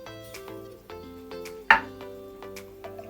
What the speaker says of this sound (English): So I'm gonna chop it down in it, squeeze it down.